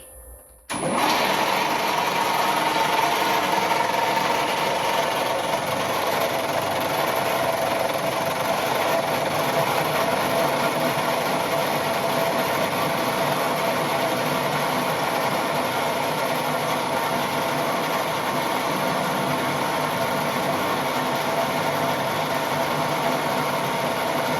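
A workshop lathe with a brake problem runs continuously at steady speed, a loud even mechanical hum and whine starting abruptly and holding unchanged throughout, with no talk.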